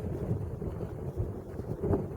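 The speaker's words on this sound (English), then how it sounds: "there's quite a lot of wind you can hear" Wind in the Sahara desert, a low, steady buffeting rumble across the microphone with slight gusts, fairly faint and with no talk.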